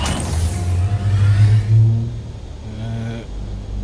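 In the game Dune: Awakening, a bulldozer-like tracked vehicle's engine revs in a deep, loud surge, climbing and then easing back into a lower rumble.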